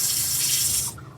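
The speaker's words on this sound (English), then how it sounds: "So the water pump just kicked on, and full running water." A van's water pump feeds a steady rush of running water into a small sink in a converted Sprinter van, a loud, close hiss that cuts off abruptly near the end.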